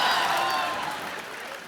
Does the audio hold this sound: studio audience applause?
yes